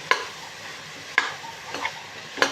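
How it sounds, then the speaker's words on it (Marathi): Finely chopped vegetables sauté in butter for pav bhaji, with a steady sizzle under three or four distinct spatula strikes and scrapes against the pan, close and clear with no talking. "आता भाज्या छान परतून घ्यायच्या आपल्याला बटरमध्ये"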